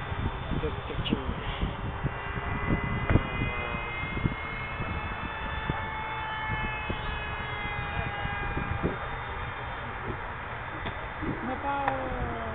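Scratch-built foam RC F-22 Raptor model jet making a fast low pass: a sustained whining drone with rising and falling pitch sweeps over the whole stretch, with people talking over it.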